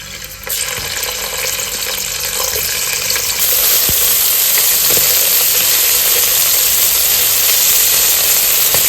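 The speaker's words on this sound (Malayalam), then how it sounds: "ചിക്കനൊന്ന് നമുക്ക് പൊരിച്ചെടുക്കണം" Chicken pieces fry in oil with a loud, steady sizzle and hiss that swells after a brief start, filling the whole stretch with no one talking.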